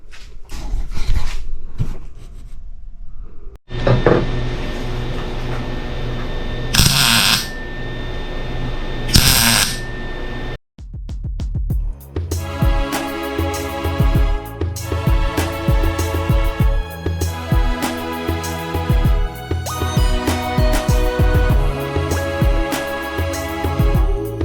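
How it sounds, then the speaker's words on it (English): Metal brackets for a snow ski bike are cut with a power tool and then welded, with a harsh grinding whine, short bursts and gaps, then a long stretch of loud, crackling, buzzing work. "So let's get these brackets cut up and welded on here."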